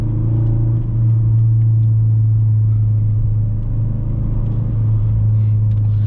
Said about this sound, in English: the exhaust is a little bit loud, guys, if you hear it